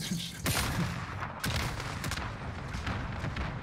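Video game weapon fire crackles in dense, rapid bursts, loud and close, filling the short stretch with overlapping shots.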